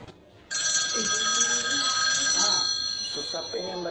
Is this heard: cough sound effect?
no